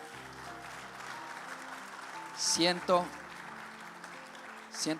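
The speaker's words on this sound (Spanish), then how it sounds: "Denle un fuerte aplauso al Señor, nuestro Salvador." Congregation applauding during a church service in praise of the Lord, a steady wash of clapping that swells in the middle and near the end, with voices speaking over it.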